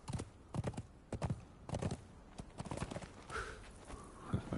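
Horse hooves in Conan Exiles clopping in a quick, steady rhythm of repeated soft thuds, fairly faint, as the horse trots along.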